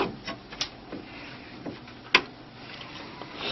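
An HP Designjet T120 or T520 printer carriage moving with an ink hose and hose chain, giving faint mechanical ticks, soft clicks and one sharp clack over a low whirring hum.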